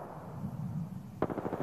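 Gunfire in the video game Apex Legends: a short burst of rapid automatic shots near the end, fairly faint, following a low rumbling background with no talk.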